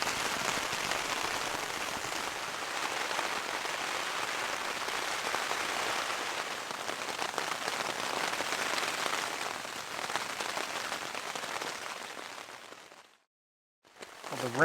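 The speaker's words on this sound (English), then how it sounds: "the rain has definitely picked up" Heavy rain drums steadily on a Hilleberg Nammatj 2 tent during a solo mountain camp in wind and rain, a dense, close patter that runs unbroken before cutting off briefly near the end.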